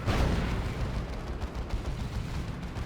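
Predator tank firing its primary cannon and side bolters in the strategy game Dawn of War 2: Retribution, a dense barrage of booming blasts and rapid shots that is loudest at the start and continues throughout, with no speech.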